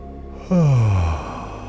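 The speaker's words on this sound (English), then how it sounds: "He yawned, ready for a nap." One drawn-out, voiced yawn, close and clear, its tone sliding steadily downward before trailing off into quiet. It sounds performed by a voice.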